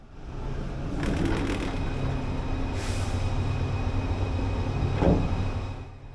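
Inside a carriage of the world's shortest international train on a short crossing over water, a steady low rumble and hum fills the space, with faint rattles and a brief hiss of air.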